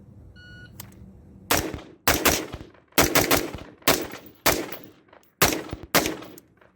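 A cheap .223 AR-style rifle upper fires in a string of sharp, loud shots, single and doubled reports spaced about half a second apart, each with a brief echoing tail, after a few faint electronic beeps.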